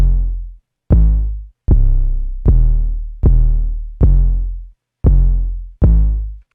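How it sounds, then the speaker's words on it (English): A trap 808 bass built from a Zay sound plays eight booming, sustained notes in a steady pattern, each with a sharp attack and long decaying tail, loud and alone. "We got the 808 here. We're using a Zay sound"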